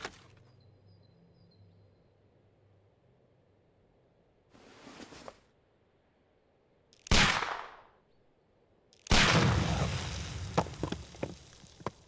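A pistol is fired at a package of dynamite in a Sherlock Holmes detective game, giving a few sharp, loud broadband cracks spaced seconds apart, the last trailing into a longer noisy burst with crackling.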